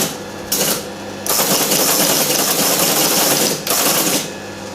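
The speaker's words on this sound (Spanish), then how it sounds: "Veamos cómo era una teletipo y también escuchemos el ruido que hacía." A Teletype Model 33 teleprinter typing in loud mechanical bursts, a dense clattering chatter of keys and print mechanism that stops briefly at the start and again near the end, close and alone.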